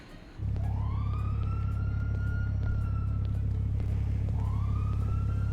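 A wailing police car siren in the GTA video game, loud and steady, its pitch rising and holding in long sweeps over a heavy engine drone, with no talking.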